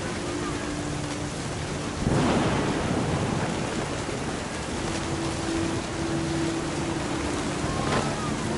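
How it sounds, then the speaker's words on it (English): A thunderstorm rolls through the video game What Remains of Edith Finch, with steady heavy rain, a loud thunder crack near the start and a continuous low, rumbling wash afterward. "Thunder sounded much too close and full of angry power"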